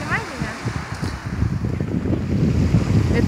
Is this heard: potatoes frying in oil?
no